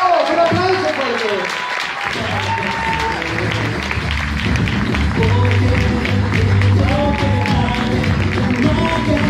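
An audience applauds for Randy Gage at a network marketing event, steady dense clapping filling the room throughout, with music and a voice running underneath.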